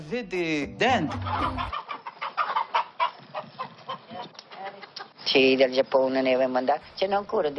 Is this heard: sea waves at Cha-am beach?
no